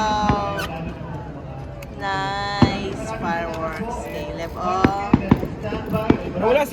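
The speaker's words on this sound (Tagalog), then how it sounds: "Look, Fireworks Caleb!" Fireworks burst over Burnham Park in Baguio City, sharp pops and bangs cracking at intervals over excited voices and crowd chatter nearby.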